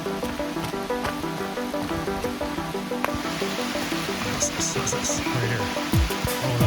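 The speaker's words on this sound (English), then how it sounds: "Oh, this beautiful rain." Steady rain falls outside an off-grid cabin, a dense continuous patter with drips and splashes close by, and a voice talks briefly over it.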